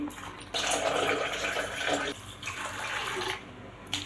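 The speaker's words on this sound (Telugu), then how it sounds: "వాటర్ వంపేసుకొని మళ్ళీ ఫ్రెష్ వాటర్ పోసి కడిగి జాలి గిన్నెలో ఊడవేసుకోవాలి" Soaked lentils for garelu are rinsed in a vessel, fresh water pouring and sloshing in steady bursts with short pauses, close and fairly loud, no talking.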